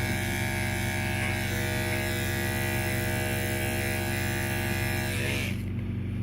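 Electric clippers buzz steadily and close at hand while shaving a schnauzer's ear during home grooming, a constant droning hum that cuts off abruptly near the end.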